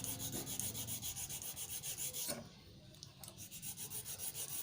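A flat-faced metal file rasps back and forth on a blade in a steady rhythm of repeated strokes, close and fairly loud, pausing briefly in the middle before resuming.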